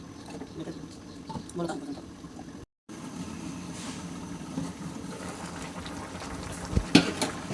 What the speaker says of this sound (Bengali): এই যে তরকারিটা কিন্তু বলক আইছে।